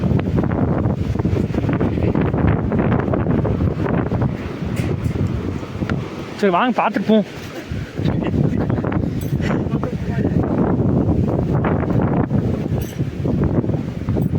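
Strong wind at a hilltop viewpoint, Kodanad, buffets the microphone in steady gusts, with people talking over the roar throughout.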